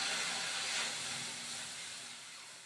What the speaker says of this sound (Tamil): ஒரு கிளாஸ் ஜலம் ஊற்றுறேன்